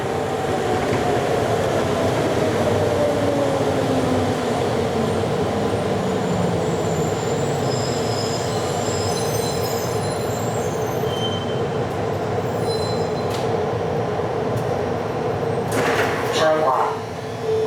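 A Miami Metromover people-mover train approaches and runs through Government Center Station, a steady loud rolling rumble with rising wheel squeal and brief door or brake noises near the end, under an automated announcement voice.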